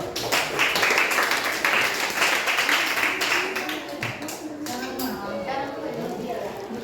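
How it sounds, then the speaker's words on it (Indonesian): A room full of people claps steadily for several seconds, the clapping thinning out as voices take over toward the end. "tepuk tangan dulu"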